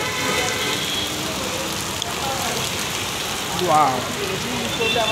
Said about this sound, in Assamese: ধাৰাসাৰ বৰষুণ